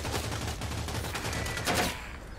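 Gunfire in a shooter video game, a fast stream of overlapping shots filling the whole stretch, with a louder burst near the end; no voices.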